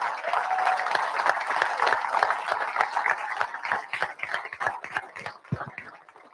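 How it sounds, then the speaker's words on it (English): An audience at a company driver meeting applauds military veterans standing to be recognized, moderate clapping that starts fairly dense and gradually thins into scattered individual claps. "love to give you a round of applause."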